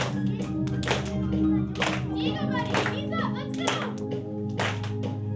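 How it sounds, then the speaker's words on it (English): A group in an exercise class claps along while music with a steady beat plays, the hand claps sounding as sharp repeated bursts over the backing track, with children's voices mixed in. "We're gonna have a clap."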